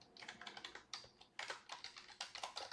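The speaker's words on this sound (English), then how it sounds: "start typing in some keywords that you're already targeting" Quick bursts of typing on a computer keyboard, clicky keystrokes in rapid runs separated by short pauses, close and clear with no talk.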